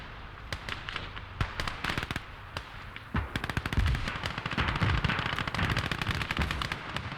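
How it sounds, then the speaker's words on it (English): In the video game Call to Arms: Gates of Hell, an artillery bombardment lands as a dense series of sharp blasts and crackling bangs, with heavier impacts in the second half. The barrage is moderately distant and continuous, with no talking. "Let's have that artillery bombard over there."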